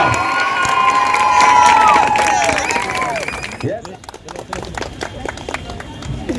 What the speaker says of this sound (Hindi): चलिए जोरदार तालियां।